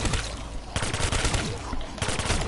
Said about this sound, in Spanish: le disparo a los zombies de acá arriba como una torre campera